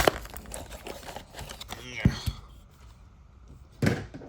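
Crinkly plastic packaging of a Beyblade toy rustling and tearing in short bursts, with a couple of sharper snaps and a brief voice in between.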